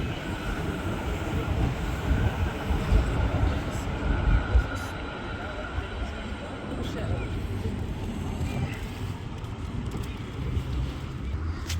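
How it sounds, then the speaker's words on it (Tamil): A train passes in Bergen, Norway, with a steady, loud low rumble of rolling wheels that swells and eases slightly over several seconds. "ரெயின் போகுது"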